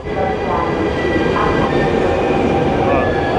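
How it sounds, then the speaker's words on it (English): Loud, continuous rumble of an older train arriving at a station in Italy, with faint metallic squeals, close by and steady throughout, without a clear rhythm. "The train should be here in just a few minutes"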